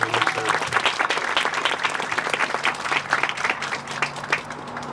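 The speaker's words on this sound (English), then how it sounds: "Let's start off with a round of applause for the men and women who serve." Sustained audience applause at a Veterans Day ceremony in Duarte honoring service members, many hands clapping in a dense, even roar that holds steady from start to finish, fairly loud and close.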